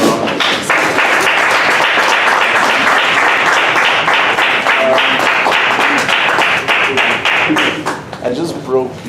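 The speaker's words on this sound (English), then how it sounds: "can we give him a round of applause?" Loud, sustained audience applause fills the room for a speaker being introduced, Mr. Bulelani Balabala, tapering off near the end as scattered claps and a few voices come through.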